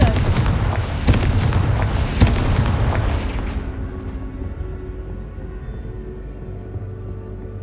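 A Confringo explosive spell in Hogwarts Legacy goes off in a series of heavy booming blasts and sharp cracks, loud at first, then tailing into a long fading rumble.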